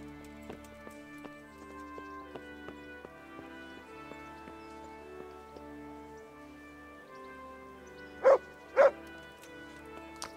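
A dog barks twice in quick succession in the video game Kingdom Come: Deliverance, two sharp, loud barks near the end over a steady backdrop of game music and ambience.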